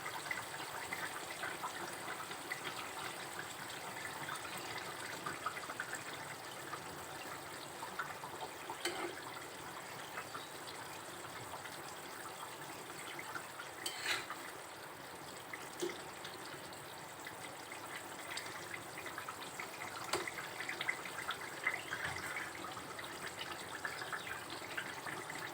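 Fish curry broth with bottle gourd bubbling at a steady boil in a pot, a continuous soft watery churn with faint pops, fairly quiet and close, with no voices throughout.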